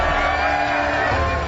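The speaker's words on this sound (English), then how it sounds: "Walking down 15, you can hear the crowd going crazy." A golf gallery at the 15th hole of a tournament in Phoenix roars and whoops in a dense, continuous wall of crowd noise, loud and steady throughout with voices blended into the din.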